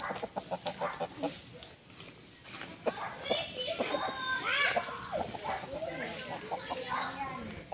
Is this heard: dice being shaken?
no